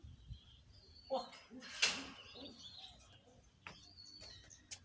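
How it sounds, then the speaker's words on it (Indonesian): A homing pigeon coos softly and faintly in a few short phrases, with light chirps and a quiet rustle nearby in a calm setting. "Ini adalah merpati pos yang pertama saya pegang."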